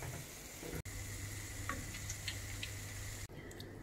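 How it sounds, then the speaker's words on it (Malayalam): Chocolate doughnuts deep frying in hot oil, a soft continuous bubbling sizzle with faint ticks, interrupted by two brief pauses. "എന്നിട്ട് എല്ലാ ബ്രൗൺസും ഇതുപോലെ അങ്ങ് ഫ്രൈ ചെയ്തെടുക്കാം."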